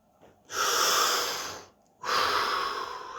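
Two long, loud breaths, each a deep inhale or exhale lasting over a second, separated by a short pause, during a guided body-scan relaxation with no talking over them.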